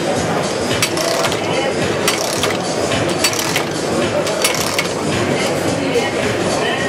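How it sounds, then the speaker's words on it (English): A hand crank cookie cutting machine runs with a steady dense mechanical clatter of ratcheting gears and metallic clinks, loud and continuous throughout. "We have the hand crank machine."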